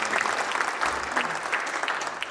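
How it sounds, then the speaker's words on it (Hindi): An audience in an academy auditorium claps during an inauguration ceremony, a brief burst of continuous applause filling the room at moderate loudness. "एक बार दातार साहब के लिए भी तालियां बजाकर"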